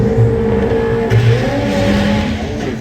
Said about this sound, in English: So Billy Bamba underneath the hood of the Nissan Micra has a VW 20 valve turbo engine. He's trying to run his first 11-second passes.